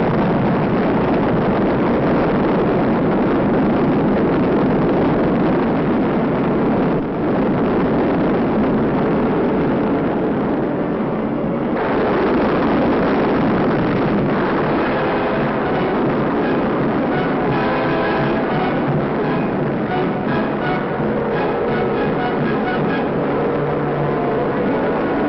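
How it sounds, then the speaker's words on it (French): A rocket engine roars from ignition into liftoff, a dense sustained rumble that swells and shifts in texture as the vehicle climbs, heard as an old 1958 film recording without voices. "Ignition, main stage, liftoff."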